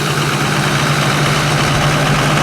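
Ford F250 6.7 diesel engines idle while warming up, a steady, close, loud low rumble with an even churning texture and no breaks.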